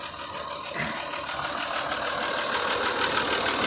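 Ford 4600 tractor diesel engine idling close by, a steady knocking rumble that holds even and loud throughout with a slight rise partway through.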